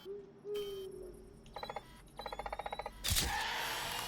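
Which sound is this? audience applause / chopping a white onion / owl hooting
owl hooting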